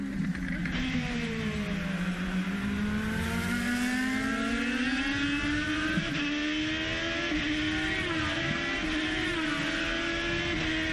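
IndyCar race cars screaming at speed on the road course at the 2011 Indy Japan 300, high engine whine rising and falling steadily with gear changes, loud and continuous throughout.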